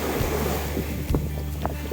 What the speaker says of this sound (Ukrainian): Отакі сьогодні хвилі і вітер, і хмари.